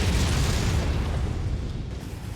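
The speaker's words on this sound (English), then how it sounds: "Enemy mech destroyed" In the video game MechWarrior 5: Heroes of the Inner Sphere, an enemy mech blows up with a loud, heavy boom whose deep rumble rolls on and slowly fades, with no speech over it.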